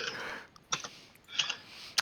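Keyboard typing on a computer during an online tabletop role-playing session, heard as a few short separate clusters of clicks with pauses in between, close and fairly quiet.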